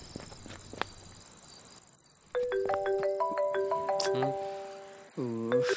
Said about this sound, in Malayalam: നീ ഫോൺ എടുത്തേ. അവൾ ഇങ്ങനെ വിളിച്ചോണ്ടിരിക്കും.